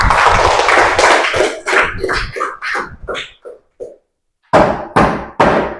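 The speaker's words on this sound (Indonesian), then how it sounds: "tepuk tangan untuk semua" A classroom at the close of a Catholic religious education lesson breaks into clapping: a dense burst that thins into scattered separate claps, a short silence, then three last distinct claps nearby.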